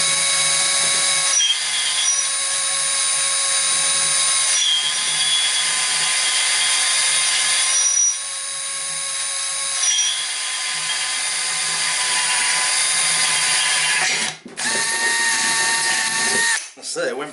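Power tool whining steadily as it runs on a bolt on Royal Enfield motorcycle parts, a bright, sustained high-pitched drone with brief breaks and sharp stops near the end, people talking over it.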